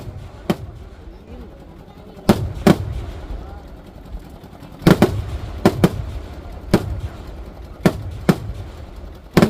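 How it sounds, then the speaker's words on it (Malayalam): Fireworks bursting at the Vishu festival of Keecheri Palottu Kavu temple in Kannur, a series of sharp, loud bangs at irregular intervals, some in quick pairs, over a low crowd murmur. "പടക്കം പൊട്ടൽ എന്ന് മീൻസ് വെടിക്കെട്ട്"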